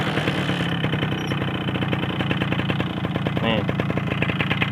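A Suzuki Tornado GX motorcycle without a battery is kick-started and settles into a steady, rapid idle, loud and close, while someone speaks briefly over it.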